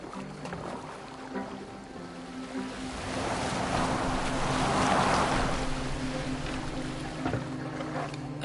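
Boat moving across open sea in Assassin's Creed Valhalla, with a steady wash of waves and water against the hull that swells in the middle and settles again under low background tones, no talking.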